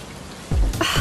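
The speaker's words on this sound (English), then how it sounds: "And now it has to rain?" Rain begins to fall, a quiet hush that turns suddenly into a louder burst of pattering about halfway through, with no one talking.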